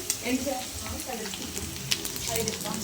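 Onions fry in hot oil with a steady close sizzle and crackle, and a few brief clinks from stirring come through.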